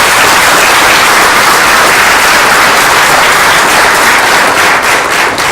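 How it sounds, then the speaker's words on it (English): Loud, sustained round of applause from an audience for event panelists, dense continuous clapping close and full throughout. "Let's give them a big round of applause."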